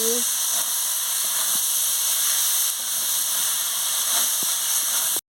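Pointed gourd, potato and carrot sizzle in a pan with spices, a steady loud hiss punctuated by small pops and crackles, cutting off abruptly at the end.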